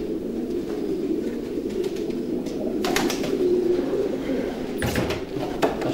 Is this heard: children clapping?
no